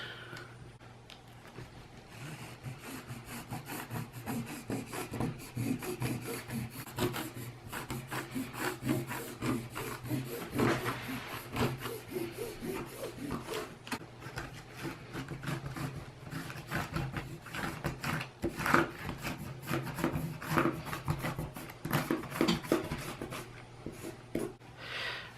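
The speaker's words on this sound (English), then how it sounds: "Okay, so now I've drawn my line all the way around with my 1/4 inch seam." Two pencils drawing a quarter-inch seam line around fabric, a soft, continuous scratchy rubbing that carries on steadily for the whole stretch, close and quiet with no talk.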